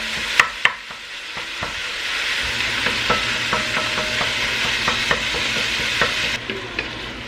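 Beef and beans fry loudly in a pan under a steady sizzle, and a spoon scrapes and taps against the pan while the mixture is stirred. No one speaks.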